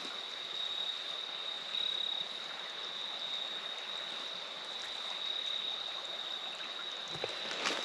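Creek water flows beneath a bridge in a steady, close hiss and trickle that continues without a break, joined by a thin, constant high insect-like whine and no voices.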